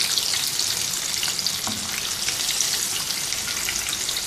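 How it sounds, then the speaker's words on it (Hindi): Chicken pieces deep fry in hot oil with a loud, continuous, crackling sizzle heard up close. "ऐसे ही अपना सारा चिकन जो है वो फ्राई कर लेंगे"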